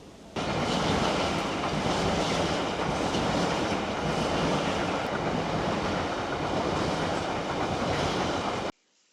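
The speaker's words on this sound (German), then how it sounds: "Genießen wir den Koppelvorgang." InterCity train carriages being coupled at a station, heard as a steady loud rumbling, rushing noise that holds for about eight seconds before cutting off abruptly.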